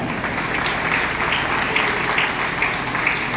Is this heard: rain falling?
no